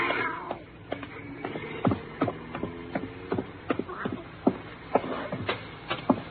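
A cat in a 1950 NBC radio drama, Night Beat's "The Black Cat," gives a few soft meows amid shuffling and handling noises, close and moderately quiet, with no talk over it.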